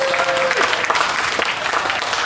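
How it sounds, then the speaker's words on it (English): An audience at a rodeo show applauds, a dense burst of clapping that fills the whole moment, with a brief voice at the start. "Give him a round of applause."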